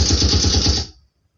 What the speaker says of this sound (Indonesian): Ini suara tembakan ya guys